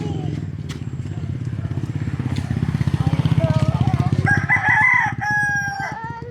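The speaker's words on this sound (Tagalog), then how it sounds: "Ay, manok." Roosters crow loudly and close by over a steady engine rumble, with chickens clucking, and people talk through much of it.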